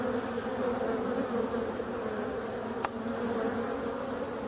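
Honeybees pouring out of a hive in a large outflight, a dense continuous buzzing hum close by and steady, with no voices.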